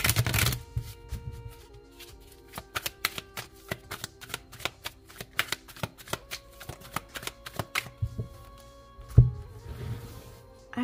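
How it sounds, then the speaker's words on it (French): Tarot or oracle cards being shuffled and laid out one by one for a reading, a quick riffle followed by a long series of crisp, evenly spaced card snaps and slaps, close by, over faint background music. "on va poser quelques cartes pour chaque mois"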